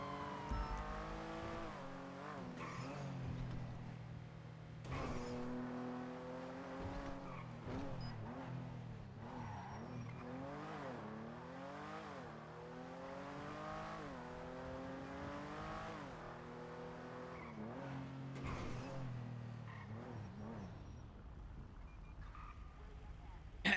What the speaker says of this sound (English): Why is the vehicle speeding?